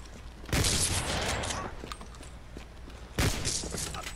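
Gunfire from a pistol in a zombies-monsters-robots PvP free-for-all video game comes as two loud bursts of shots, a few seconds apart. Noisy game ambience continues underneath.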